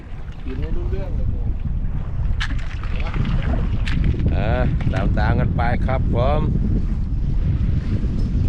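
Strong gusty wind buffets the microphone outdoors in dry, fairly fierce conditions, a constant loud roar throughout while someone talks over it.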